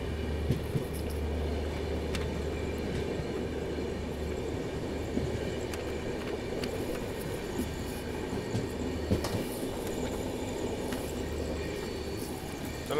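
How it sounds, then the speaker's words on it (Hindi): A diesel passenger train pulls out of Tumakuru railway station, giving a faint, steady low rumble of rolling wagons with occasional light clicks from the track. "Finally departing Tumakuru railway station."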